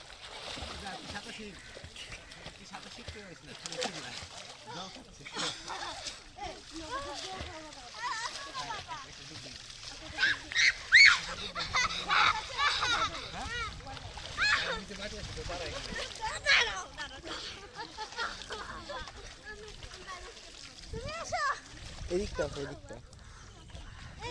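Water splashing and sloshing as people swim and bathe in the Ganga river, irregular bursts under steady talking voices throughout.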